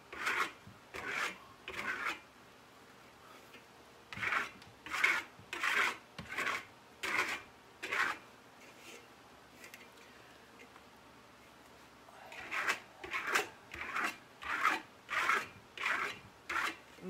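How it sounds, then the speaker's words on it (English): A steel trowel scrapes and burnishes a LusterStone plaster finish in repeated rhythmic rasping strokes, about a dozen in two bursts with a pause between, close and moderately loud with no talk. "Scrape, scrape, scrape."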